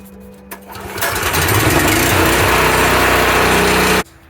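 A petrol pressure washer's small engine fires up after a brief pull, running loud and close at a steady high-pitched drone for about three seconds before cutting off abruptly.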